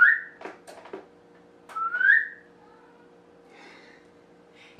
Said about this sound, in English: I whistle at my cat, it's a daily basis.